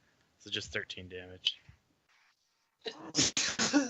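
A sharp, loud sneeze bursts out near the end of a tabletop game session, coming right after a man's speech and a short quiet gap.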